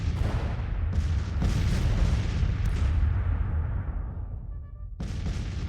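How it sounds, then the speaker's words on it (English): Artillery fire in the Civil War strategy game Grand Tactician, with a few heavy booms and rolling blasts that rumble and fade before another sharp report near the end. It sounds loud and dense, with no talking. "Well, the artillery's found something to shoot at."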